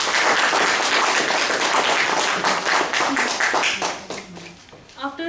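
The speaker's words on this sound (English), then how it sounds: "Please join me again to have a round of applause for Joke Master of the Day." An office meeting audience claps in a loud, dense round of applause that fades toward the end, with some voices mixed in.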